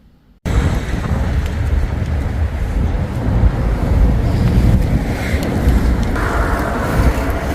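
Strong cold wind buffets the microphone outdoors, a loud continuous rumbling roar that starts abruptly after a brief quiet moment and carries on unbroken.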